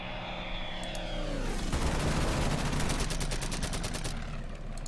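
Aircraft strafing run in the World War II strategy game Order of Battle, set at Bougainville with US Marines: a droning plane engine sweeps past, then rapid machine-gun bursts rattle continuously, loud and dense, with no talking.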